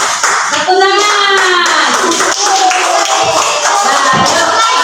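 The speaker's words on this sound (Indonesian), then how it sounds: "Tepuk tangan." Schoolchildren in a classroom clap their hands together, a loud, dense burst of clapping mixed with children's voices and a sung or chanted tone rising over it.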